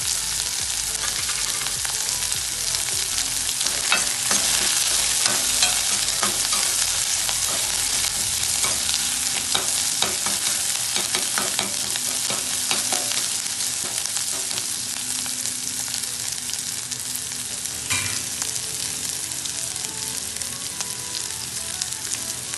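Chopped onion and dry red chillies frying and sizzling in a pan, a steady crackling hiss with occasional sharper pops and stirring scrapes, close and continuous without any talking.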